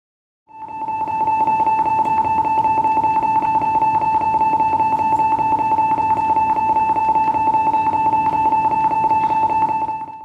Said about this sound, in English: A hard lockdown is initiated by an alarm sound over the PA system